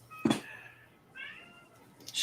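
A cat meows a few times, short separate calls that sound fairly near, against a quiet room.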